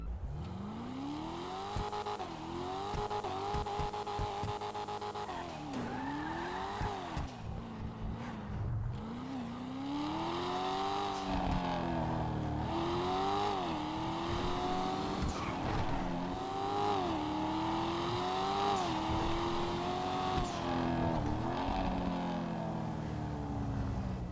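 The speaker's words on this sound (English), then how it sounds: "It's definitely one of the better sounding cars in the game" A Invetero Coquette Blackfin sports car engine in GTA Online revs and shifts through gears repeatedly, pitch climbing and dropping in waves, loud and continuous with a synthetic, game-like tone.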